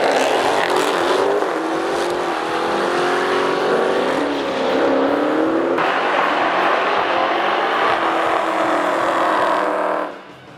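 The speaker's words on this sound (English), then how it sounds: "Let's see which one of these Hellcats can lay the longer strip of rubber." Dodge Hellcat, a 2015 Charger or Challenger SRT, doing a burnout to lay rubber: loud sustained supercharged engine roar at high revs with tire squeal, holding steady for about ten seconds before cutting off, no talk.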